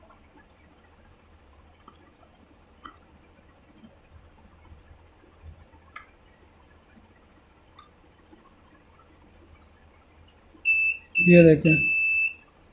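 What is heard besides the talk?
UPS kit low-voltage buzzer beeping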